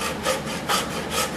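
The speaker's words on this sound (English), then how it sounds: "this here particular hacksaw, the blade sometimes folds over on me, so it may not cut real perfect" Hacksaw with a blade prone to folding over, cutting through a piece of wood. About three slow, rhythmic rasping strokes, close and clear, with no talking.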